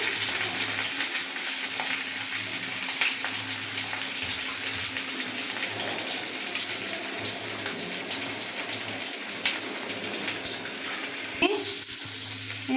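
Capsicum fries in a pan for a chicken liver and mixed vegetable dish, a steady watery hiss with light stirring scrapes and a brief clatter near the end, no voices.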